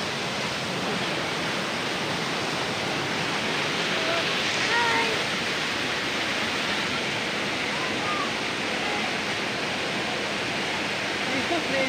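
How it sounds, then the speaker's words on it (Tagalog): A waterfall roars in a broad, unbroken rush of falling water, loud and close, with a faint voice or two mixed in now and then. "nandito na po kami sa falls."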